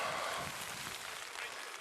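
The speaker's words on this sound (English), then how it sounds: "it's raining, not hard," Steady light rain at an outdoor baseball game, a faint continuous hiss and patter with no other sounds over it.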